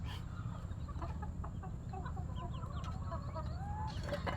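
Chickens cluck softly around a village homestead in Barisal, with scattered faint calls over a quiet, steady rural background.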